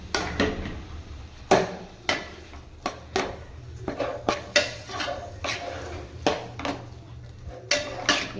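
Cooked rice being mixed into a pot with a spoon for tamarind or citrus rice, a series of irregular clanks and knocks of the spoon against the pot, close and fairly loud, with no talk.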